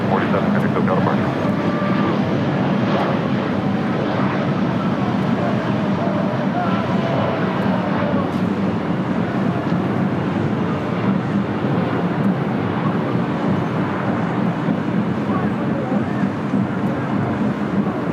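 A Southwest airliner departs LAX with a steady, broad engine roar that holds at constant loudness throughout, nearby and continuous, with radio talk faintly mixed in.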